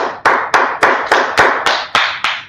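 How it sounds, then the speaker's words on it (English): A group claps hands in unison during a religious history class, about nine evenly spaced, loud, sharp claps, each ringing briefly in a reverberant room, with no talk. "Let's clap it up for the Lord."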